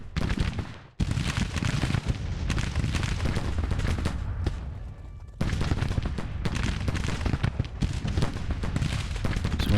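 Massed rifle volleys and artillery fire in the Grand Tactician Civil War strategy game, a dense, continuous crackle of gunshots and booming blasts that drops briefly near the start and again midway before resuming at full loudness.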